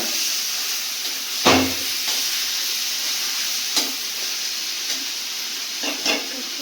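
Steady hiss and sizzle of onions frying on a low flame for chicken curry, continuous and close, with a few soft stirring knocks of a utensil and no talking.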